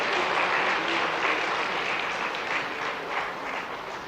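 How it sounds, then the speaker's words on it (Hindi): A large audience at a solar agriculture feeder summit applauds to welcome the chief minister, steady dense clapping that stays loud and even throughout with no pause. "आप लोगों से निवेदन है कि जोरदार तालियों से उनका स्वागत,"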